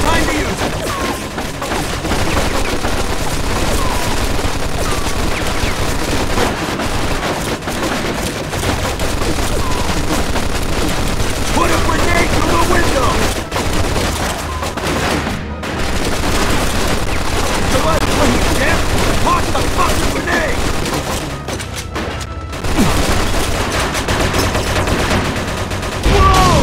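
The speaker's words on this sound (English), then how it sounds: "Looks like we found the machine gun!" Machine gun fire in the Mafia 2 game rattles almost without pause, a dense, loud barrage of overlapping shots and blasts that keeps going for nearly half a minute with only brief gaps.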